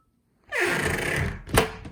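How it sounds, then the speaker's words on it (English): A loud bedroom closet door slides open with a long, rumbling scrape at close range, then hits its stop with a sharp thunk. "the door is so loud, it's very annoying"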